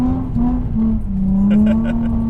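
Infiniti G35 coupe drifting on an open track, its engine droning steadily and loud throughout with the pitch dipping and rising as the throttle shifts, tire noise mixed in.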